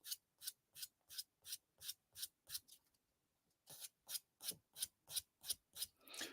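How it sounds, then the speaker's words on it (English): Steady rhythmic rasping of a sanding stick worked back and forth across a hard scale model surface, refining coarse sanding, about a dozen strokes, a brief pause, then more strokes, close up. "I can now just go over and refine all that quite coarse sanding from that other sanding stick"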